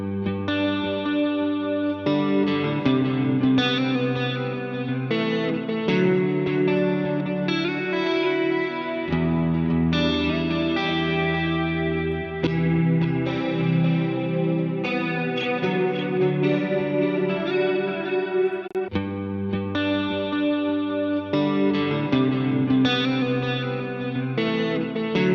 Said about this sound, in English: I switch to a multi-chorus for bigger, lusher chorus